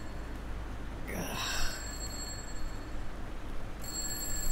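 Telephone ringing with bright electronic tones, one burst then another starting near the end, over a steady low background hum.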